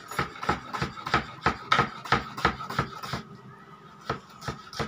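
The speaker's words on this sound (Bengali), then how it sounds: "আমি ঠিক ঝিরিঝিরি করে কাটছি।" A knife finely slicing onion on a chopping board, a quick regular series of crisp chopping taps that pauses briefly near the end, close and clear, for a Bengali chicken dish with green chillies.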